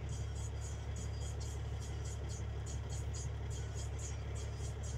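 A car reverses while manoeuvring to park in a tight spot, its engine a steady low hum and whir heard from nearby, with a faint rhythmic chirp high above, continuous and without talk.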